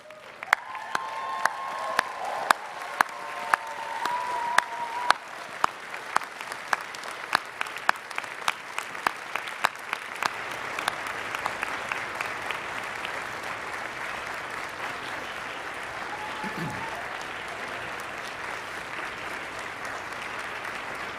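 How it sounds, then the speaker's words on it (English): Graduates at a 2023 commencement ceremony stand and give their families and friends a long, hearty round of applause, dense and steady for about twenty seconds with a few sharp, close claps standing out early on and a brief cheer. "join me in thanking your families and friends with a hearty round of applause"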